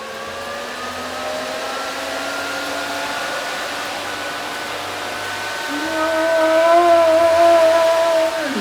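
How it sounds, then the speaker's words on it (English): Brand-new electric cooling fan on a 1947 Ford hot rod whirring steadily, a close motor hum with tonal whine that rises in pitch and loudness near the end. "So we kind of thought it would be a good idea to test the fan since it's brand new"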